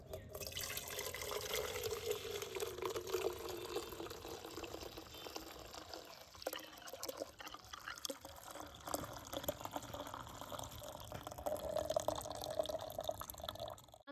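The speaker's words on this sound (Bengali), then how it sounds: "এবারে ছাঁকুনির সাহায্যে ছেঁকে নেব।" Spiced milk tea being poured through a tea strainer, a steady soft trickle and splash of liquid running for the whole stretch at low level.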